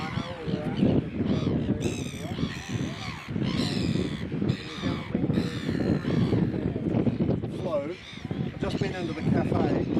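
Red-billed gulls call repeatedly in a noisy flock, their harsh, loud, overlapping cries filling the whole stretch, with voices murmuring underneath.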